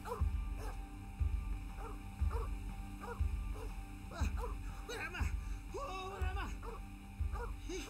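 A dog barks, yips and whimpers in the video game The 39 Steps, with repeated short barks over several seconds beneath a voice.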